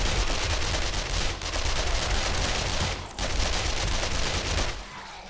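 Sustained rapid gunfire from a gun in the zombie survival game 7 Days to Die, loud and close, firing almost continuously for several seconds with a brief pause midway.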